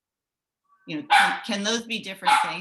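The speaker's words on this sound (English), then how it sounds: "pardon my dog" A dog barks in a few close, sharp bursts in a home during an online meeting, while a person speaks over it.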